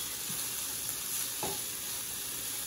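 Vegetables with chili powder fry in a hot pan for quesadillas, a steady loud sizzle running throughout with a couple of brief stirring scrapes breaking through.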